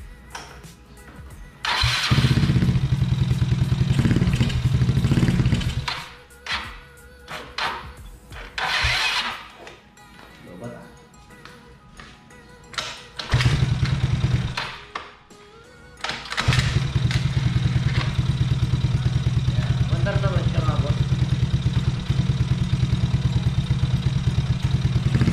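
A motorcycle engine, just fitted with a sporty CDI unit, cranks and catches several times with stuttering bursts and pauses. It then settles into a steady, loud, close-up idle for the final stretch, with no talking.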